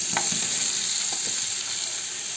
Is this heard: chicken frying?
yes